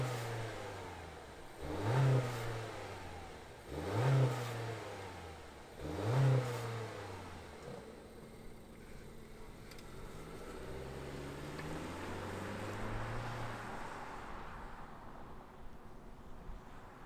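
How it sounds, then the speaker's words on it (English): Mazda CX-5 2.5 liter engine starting up, with three quick, loud revving bursts followed by a steady, quieter idle hum, heard alone. "let's fire up this CX-5 and hear if it makes any noise"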